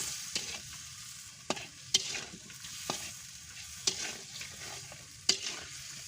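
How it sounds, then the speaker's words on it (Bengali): Konkon fish with roe inside fries in spices in a pan, a soft steady sizzle punctuated by regular, distinct spatula knocks and scrapes every second or so, with no voices. "মশলা দিয়ে মাছটা ভালো করে ভেজে নিলাম"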